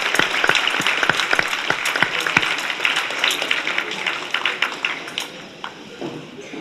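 A round of applause for quiz teams at a youth county final, sustained clapping with distinct sharp individual claps up close, gradually thinning out toward the end.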